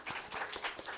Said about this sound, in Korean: 자매에게 격려의 박수를